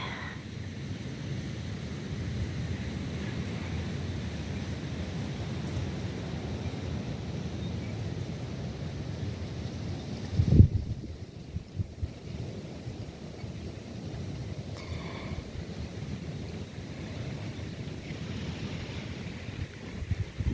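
Outdoor wind rumbles and buffets steadily on a spring day, with a sharp gust or knock partway through.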